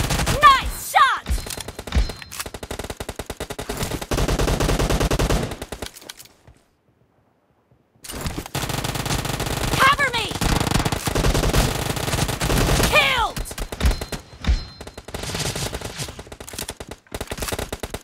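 Bursts of automatic machine gun fire in a team deathmatch video game, loud and rapid, broken by a roughly two-second silence midway, with a voice speaking over parts of the action.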